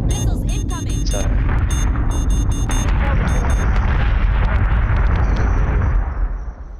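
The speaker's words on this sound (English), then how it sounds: "Somebody just nuked himself." A nuclear blast goes off in the video game Sin & Sacrifice. It is a loud, sustained, rumbling roar that fills the whole clip and fades slightly at the end, with sharp crackling bursts near the start.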